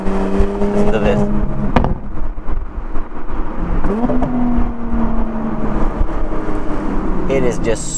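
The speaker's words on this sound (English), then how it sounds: "It is just so satisfying to have the exhaust valves open and let it scream." With its exhaust valves open, a 2021 Porsche Panamera 4S E-Hybrid Sport Turismo engine wails as revs sweep upward and hold, punctuated by occasional sharp pops, loud and close throughout.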